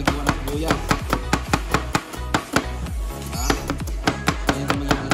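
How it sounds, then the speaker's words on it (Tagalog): Rapid knife chopping as an onion is sliced very thinly for dinakdakan, a steady run of sharp, close board taps in quick rhythm throughout. "Ganyan ang maghiwa ng sibuyas guys. Mabilis."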